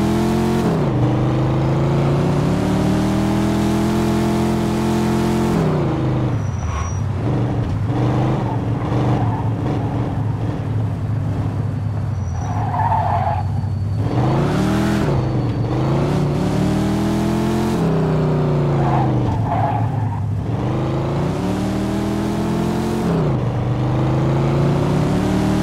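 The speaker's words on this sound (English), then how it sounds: "In pursuit of a speeding vehicle." Car engine from a speeding car chase in Mafia II, roaring loud and continuous, with repeated revving surges and gear-shift dips as the vehicle races along.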